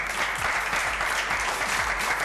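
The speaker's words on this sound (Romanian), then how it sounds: "Aplauze." Studio audience applause on a Romanian television talk show, a steady dense wash of clapping filling the whole stretch at moderate volume, with no voices over it.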